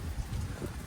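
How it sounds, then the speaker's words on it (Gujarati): Rain falls outside a house in the UK on a dark day, a soft steady wash heard from indoors with low rumbling underneath, faint and without speech. "વરસાદે ફૂલ ચાલુ છે"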